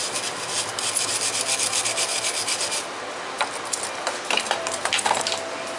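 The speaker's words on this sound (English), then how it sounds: "So go ahead and scrape her off here," Gunk being scraped off a heated surface, with short rasping strokes close by, some rapid and repeated, others spaced apart, fairly quiet with no talking.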